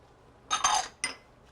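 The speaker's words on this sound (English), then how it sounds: "Continue to swirl and stir." A spoon clinks against a pot while reduced-fat cheddar cheese is stirred into grits: three short metallic clanks in quick succession, close and crisp.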